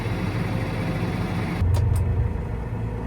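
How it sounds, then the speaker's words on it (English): A truck engine rumbles on a farm field, a steady low mechanical drone close by that grows slightly heavier midway as it passes, with a couple of brief higher clanks on top. "Sounds like Monster Adam's truck"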